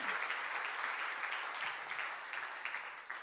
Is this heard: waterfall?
no